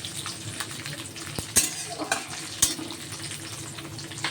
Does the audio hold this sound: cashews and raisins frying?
yes